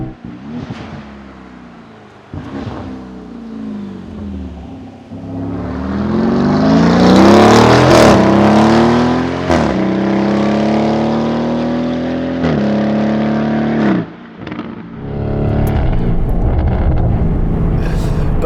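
A Novitec-tuned Lamborghini Urus SE hybrid SUV's V8 engine and exhaust roar loudly, revving up through rising, then falling pitches with a few sharp pops and brief lifts between pulls.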